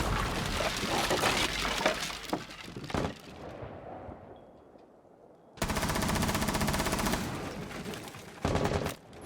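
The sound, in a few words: barricade being broken in Rainbow Six Siege video game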